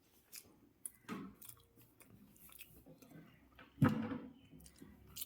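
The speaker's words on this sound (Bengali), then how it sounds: "অল্প একটু ভাত দিয়ে এটা খেয়ে দেখি কেমন" Soft, close mouth sounds of chewing a bite of oily pangas fish curry with rice, faint and sparse, with a few small moist bites and one louder crunchy moment near the end.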